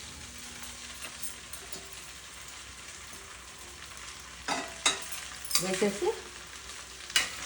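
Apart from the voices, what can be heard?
potato sago upma being stirred in a pan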